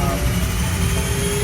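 Cabin of an airplane in flight: a loud, steady broadband engine roar and rushing air fill the whole stretch with constant intensity.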